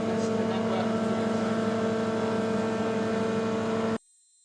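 A Lumberjack drum sander hums steadily as boards are fed through to bring them to an even thickness, a loud continuous motor drone with a broad abrasive hiss that cuts off abruptly near the end.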